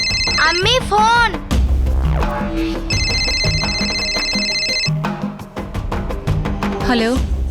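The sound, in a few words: telephone ringing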